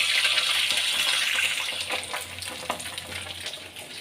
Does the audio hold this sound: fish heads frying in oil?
yes